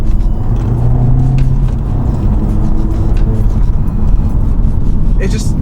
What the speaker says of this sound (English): It's amazing how this car just picks up speed so quickly